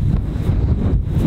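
Strong wind on a golf course in New Zealand buffets the microphone in a low, rumbling roar that swells and eases in gusts.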